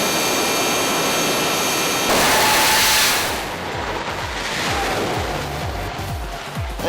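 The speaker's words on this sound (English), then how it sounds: "the world famous Martin Hill in the Fire Force 3 Jet Funny car" Fire Force 3 jet funny car roaring down a drag strip at Santa Pod Raceway, a loud, broad jet-engine blast that surges then trails off into a distant rumbling whoosh.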